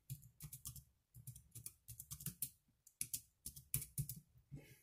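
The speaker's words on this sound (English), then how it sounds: "allowing you to simply slot your palm in, open an application, and begin typing" Fingers typing on a folding mechanical keyboard made for the Palm V handheld: quick, close, irregular clicking keystrokes in short bursts with brief pauses, heard alone.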